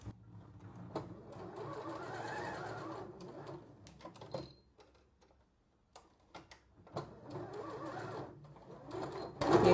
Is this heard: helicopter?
no